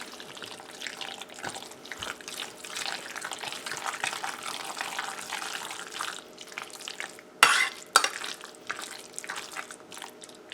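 A wet, sloshy moose meat mixture is stirred in a bowl, a continuous squelching, splashy churning with a brief louder clatter near the end, no voices.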